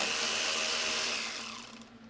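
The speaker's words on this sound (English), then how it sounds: "fallen in love with this cordless ratchet. I use it so much." A cordless ratchet whirs steadily as it loosens hardware to pull the battery from a Honda CB750F SuperSport motorcycle, a loud continuous mechanical buzz that fades toward the end with no talk.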